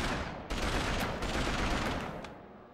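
Rapid automatic gunfire rattles nonstop in the 2006 PS2 game Beverly Hills Cop as an enemy sprays a wall, loud and dense for the full few seconds.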